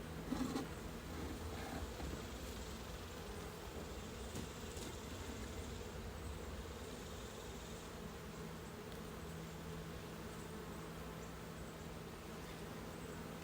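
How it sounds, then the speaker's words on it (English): Honey bees swarm around an open hive during a summer inspection, a dense steady buzz of many insects close by, holding at an even level throughout with no talking. "There's a lot of bees here."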